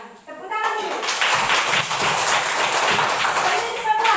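Students applaud in a classroom, a steady wash of many hands clapping together that starts after a short pause and lasts several seconds.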